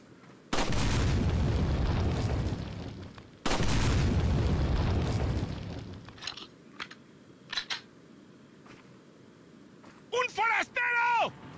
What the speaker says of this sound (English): And that's a bomb.